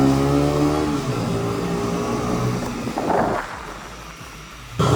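A 2021 KTM Duke 125 single-cylinder motorcycle pulls hard, its engine note climbing through the revs, dropping at a gear change, then building again, with wind rushing across the microphone throughout.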